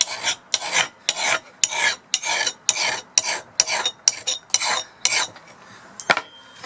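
A double cut hand file rasps rust off a garden tool blade in about a dozen steady back-and-forth strokes, close and loud, each stroke a bright scraping burst with short pauses between.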